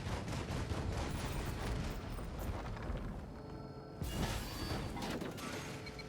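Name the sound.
turret firing in Risk of Rain 2 video game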